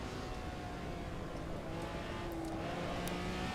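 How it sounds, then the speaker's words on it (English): A Ferrari 312T engine in Assetto Corsa holds at high revs as a steady, dense, loud drone with a slowly rising pitch, continuous throughout with no speech. "getting into that higher RPM doesn't sound too bad at all"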